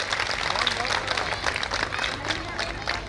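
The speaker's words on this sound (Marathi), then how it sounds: "त्यांच्यासाठी एकदा जोरदार टाळ्या झाल्या पाहिजेत" Applause from an audience at a school gathering for its donors, scattered clapping from many hands, fairly distant and loose, with voices murmuring underneath.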